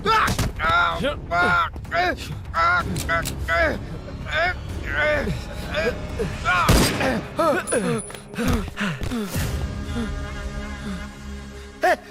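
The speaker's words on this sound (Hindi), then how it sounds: "गोली क्यों चलाई?" Gunfire in a Hindi-dubbed South Indian action movie scene: sharp loud shots in rapid bursts over dramatic background music, with shouting voices throughout.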